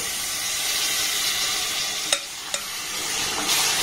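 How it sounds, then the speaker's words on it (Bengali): Olives stirred into melted jaggery in a hot pan, with a steady sizzling hiss and a couple of soft spoon scrapes against the pan, close and continuous. "এবার গুড়ের সাথে জলপাইটাকে একটু ভালোভাবে নাড়াচাড়া করে একটু এইভাবে কষে নেব।"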